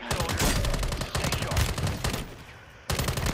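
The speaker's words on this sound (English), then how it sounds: "I was getting shot in the back." Rapid video-game gunfire rattles in dense bursts, loud and close, breaking briefly before another volley starts, with no one talking over it.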